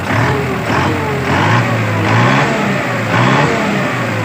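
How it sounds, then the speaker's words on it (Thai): A diesel engine revs as the accelerator is pressed after its injection pump has been tuned, giving a loud, close roar that rises and falls in a few waves with no pause, without talking. "เราก็ลองกดคันเร่งนะครับ กดคันเร่งดูครับ"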